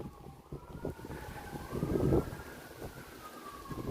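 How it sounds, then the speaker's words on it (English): Emergency vehicle sirens wailing outside during Hurricane Milton, faint and distant, rising and falling over steady wind and rumbling background noise. "You hear the sirens?"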